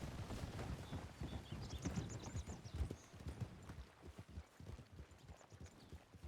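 A horse's hooves clip-clop on a town street in a Western video game, a steady brisk rhythm of hoofbeats throughout, moderately close and alone, without talk.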